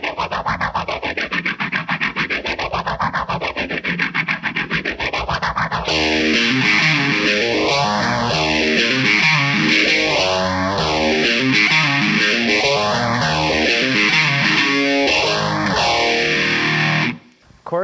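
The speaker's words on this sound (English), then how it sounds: "here's the sound everybody wants to use a phaser for." An electric guitar through a Tortuga Standard Issue Phaser on a gained-out amp plays a sustained distorted tone with a loud, steady sweeping swoosh that rises and falls in slow even cycles, then cuts off abruptly at the end.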